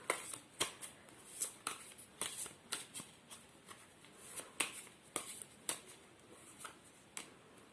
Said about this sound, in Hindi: बाकी के कार्ड हम शफल करके देखते हैं कि आपके लिए क्या कार्ड्स आते हैं।